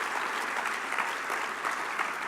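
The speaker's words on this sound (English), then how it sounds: "they deserve a round of applause" An audience at an awards ceremony for restaurateurs claps steadily, a dense, even wash of applause filling the whole moment without voices.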